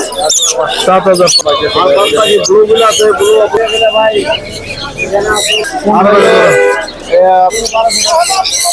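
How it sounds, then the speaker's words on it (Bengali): Colorful caged birds at a bird market chirp and tweet in the background while people talk loudly over the bustle nearby. "সুন্দর সুন্দর পাখি"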